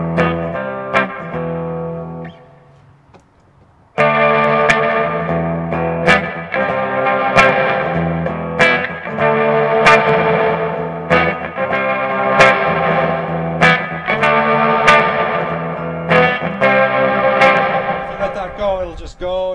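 A guitar runs through a Gearhead Dead King fuzz and effects pedal, giving a loud, thick, distorted wall of sustained tones. The sound drops briefly near the start, then surges back and keeps going with struck accents.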